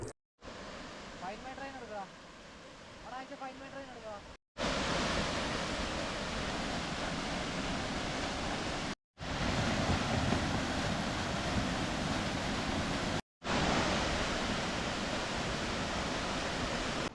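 A waterfall in the forest pours in a steady, broadband rush heard from close by, interrupted by brief silent cuts, with a faint patterned tone in the opening seconds.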